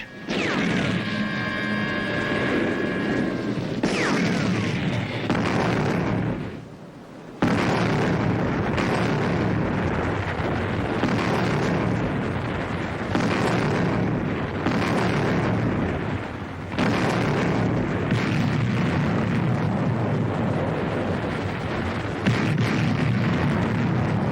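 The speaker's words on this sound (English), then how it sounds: "The British artillery are hitting our positions." Artillery shells from British guns burst on defensive positions in a wartime battle, a continuous barrage of loud, crashing impacts and rumbling blasts that keep overlapping for the whole stretch, with only one brief lull.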